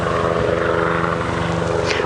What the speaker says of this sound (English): Oh, there's a helicopter flying overhead, very low.